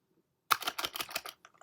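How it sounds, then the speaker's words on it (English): Someone types a password on a computer keyboard: about seven quick, soft key clicks in a short burst, close and fairly quiet, followed by a couple of fainter taps. "So I'm typing the password"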